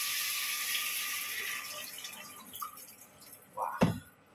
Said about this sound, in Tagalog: Lagyan natin guys ng tubig.